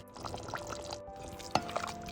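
Water pours into a pot of chicken rasam with a soft, continuous liquid rush and a few splashy drips, plus one sharp clink midway, fairly quiet and close.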